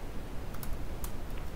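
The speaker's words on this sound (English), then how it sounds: "let's try typing" Quick, light keystrokes tap on a computer keyboard in a short burst, close and clear over a soft room hiss with no talking.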